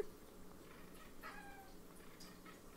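Two cats sit in cat trees indoors, and a faint, brief meow or two rises over quiet room noise.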